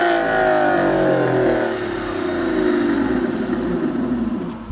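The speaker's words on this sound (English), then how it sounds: "But the best part about the Vanquish is its exhaust note." An Aston Martin Vanquish S engine revs hard, its exhaust rising and falling in pitch with a deep, throaty roar, loud and close.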